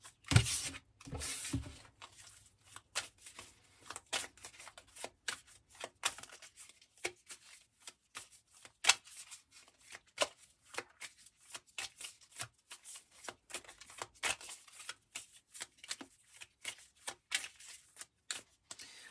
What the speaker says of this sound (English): One more shuffle, my guides.